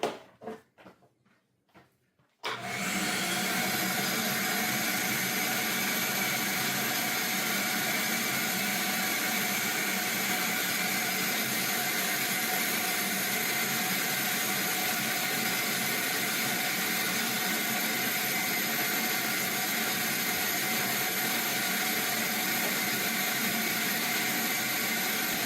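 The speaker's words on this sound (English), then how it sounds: "let's get busy and get the vacuum out." A vacuum cleaner starts up after a few quiet knocks and runs steadily, a loud constant whirring drone held for over twenty seconds without pause.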